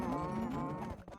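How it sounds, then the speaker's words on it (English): Several cows moo in a blocky video game, with overlapping low, drawn-out lowing calls that are loud and close for just over a second, with no talk. "they've even got cows"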